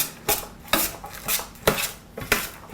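An oily mixture is stirred in a bowl, with a utensil scraping and clinking against the bowl in repeated rhythmic strokes, roughly six knocks over three seconds, close and clear with no talk.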